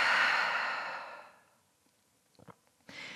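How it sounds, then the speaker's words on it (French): A long open-mouthed exhale during gentle yoga breathing, a breathy sigh that slowly fades to silence, followed by a few faint, quiet breath sounds close by. "Ouvre la bouche, expire."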